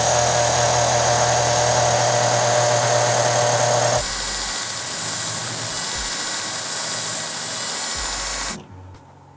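Power tool cutting the ends off a forged Damascus steel bar: a loud, steady high-pitched whine and grinding for about eight seconds, changing pitch midway, then cutting off abruptly.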